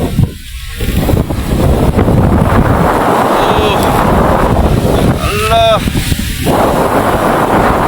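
A small fishing boat pushes through big waves in strong wind out at sea, with heavy wind buffeting the microphone and a constant roar of water and engine as someone talks over it.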